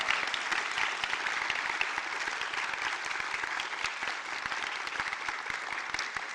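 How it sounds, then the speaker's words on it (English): A standing audience at a university graduation ceremony in Brisbane gives a big round of applause to professional staff: many hands clapping in a steady, dense roar for several seconds, moderately loud from across a large hall, with no speech. "say thank you through giving them a big round of applause"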